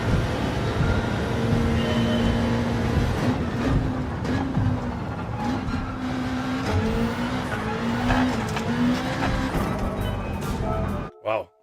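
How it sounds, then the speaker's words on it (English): Race car engine droning steadily with tire sliding and skidding through corners in Gran Turismo 7, loud and continuous throughout, ending abruptly. "This car slides all over the place."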